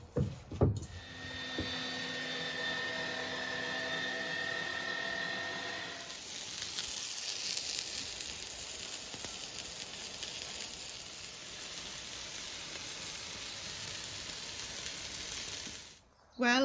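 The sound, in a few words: minced homemade pork sizzling on the grill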